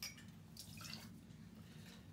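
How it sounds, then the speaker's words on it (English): An ounce of peach schnapps poured into a glass for a cocktail makes a short, soft liquid trickle and light drip, faint and close with no talk. "we're going to pour 1 ounce of Peach Schnapps"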